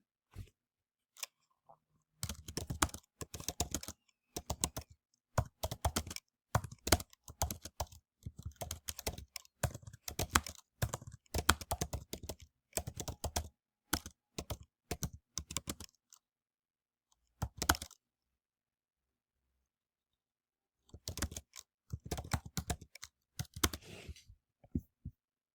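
Rapid clattering keystrokes on a computer keyboard come in dense bursts, pause for a few seconds, then resume in another flurry of close, crisp typing.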